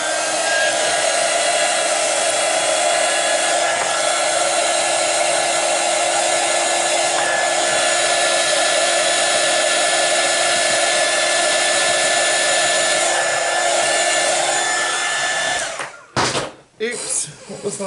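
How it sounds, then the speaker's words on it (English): A heat gun blows on a colouring page with a loud, continuous whooshing roar that holds steady for about fifteen seconds, then cuts off into a few bumps and handling noises. "I'm going to get that dratted heat gun out."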